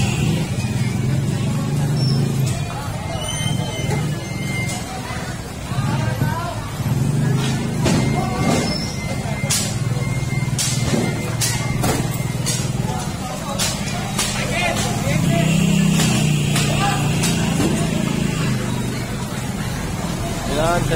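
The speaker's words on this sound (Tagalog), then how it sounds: "Ayan na yung truck." A truck arrives and idles in a narrow alley in Manila during a clearing operation, its low engine rumble steady and close throughout, with people talking over it and scattered clatter and knocks.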